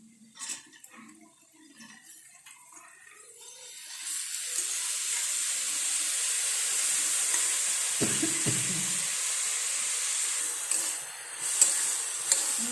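Moong dal with curry leaves fries in a pan, a few soft stirring scrapes giving way to a steady, even sizzle that holds close and moderately loud with occasional stirs.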